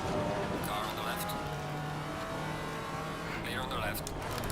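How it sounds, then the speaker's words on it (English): A race car sweeps past on the left during an endurance race at Watkins Glen in Assetto Corsa Competizione, its engine roar steady and loud throughout, with a radio-style spotter voice talking over it. "Car on the left."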